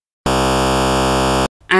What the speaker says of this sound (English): reedy rumble,